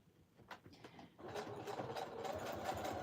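A sewing machine stitches across fabric for tab clusters, first with a few slow stuttering stitches, then a steady rapid mechanical whirr and clatter that carries on close by.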